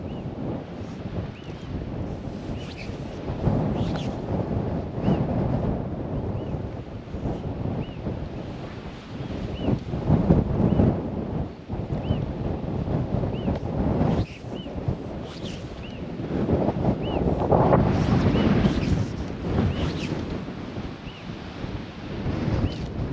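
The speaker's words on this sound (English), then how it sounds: "casting right into that wind. Right into that wind. It's just starting howling." Howling wind sweeps across open water in Patagonia during fly fishing, a steady roar buffeting the microphone with surging gusts and no talking.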